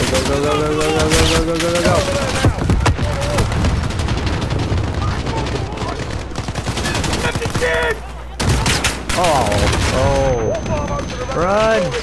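Rapid automatic gunfire and explosions in a Call of Duty Modern Warfare campaign firefight, loud and nearly continuous, with voices shouting over the shooting.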